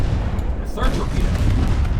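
Battleship guns firing in the naval game Ultimate Admiral Dreadnoughts, a broad booming blast with rumbling low end that carries on for about two seconds.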